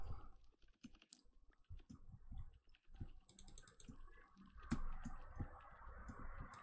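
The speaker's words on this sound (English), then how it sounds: "What are you typing?" Computer keyboard typing during Minecraft Bedwars play, a steady run of quick, close clicks and clacks through the whole stretch, with some louder busier keystrokes in the last couple of seconds and no talking.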